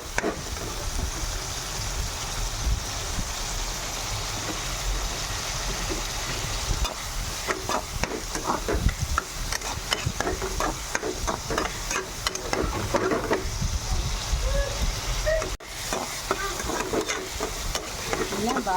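Tomato pieces for a brinjal tomato curry fry steadily in a pan, giving a continuous close sizzle with scraping stirring strokes throughout, and no voices.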